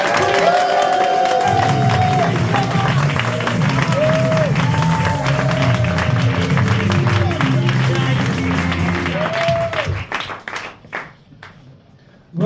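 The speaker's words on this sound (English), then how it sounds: "Everyone's going to join in with you as we welcome to the stage Jay Sommer" Pub comedy-night crowd at the King Charles Inn in Poole claps rhythmically and cheers to welcome a stand-up comedian to the stage, with whoops and shouts over the steady clapping before it fades out near the end.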